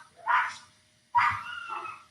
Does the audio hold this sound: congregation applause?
no